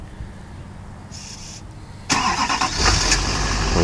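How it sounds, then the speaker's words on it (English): Remote start of a 2008 GMC Sierra 2500 SLT crew cab with the 6.6 Duramax diesel and 171k miles: a brief hum and click, then the engine cranks and catches, settling into a loud, close diesel idle. "Remote start."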